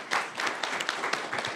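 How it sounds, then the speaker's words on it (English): Audience applause at a county board of supervisors meeting, a short burst of scattered clapping from a modest crowd in a hall, moderately loud and uneven, with individual claps audible in the mix. "So huge round of applause for all of you for the great work you've done."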